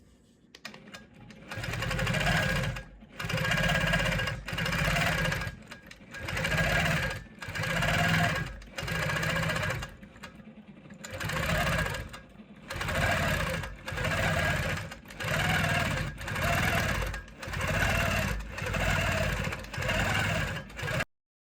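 A longarm quilting machine stitches free motion hexagons in steady bursts, its fast mechanical whir starting and stopping about a dozen times close up, no talk.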